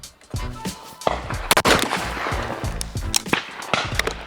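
Outdoor shooting with a Krieghoff K80 Parcours X shotgun, sharp blasts spread across the stretch amid background rumble and handling noise.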